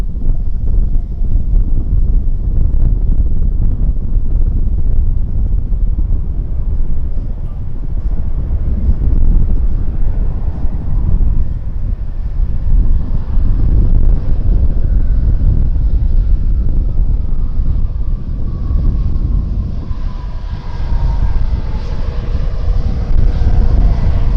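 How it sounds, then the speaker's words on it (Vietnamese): Bamboo Airways Airbus A320neo landing at Tan Son Nhat airport in very strong wind, a loud continuous engine roar mixed with gusty wind buffeting on the microphone, with a faint rising whine near the end. "bây giờ máy bay đang hạ cánh trong điều kiện thời tiết gió rất lớn tại sân bay Tân Sơn Nhất"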